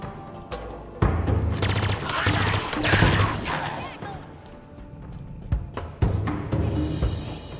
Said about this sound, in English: He's firing needles at me.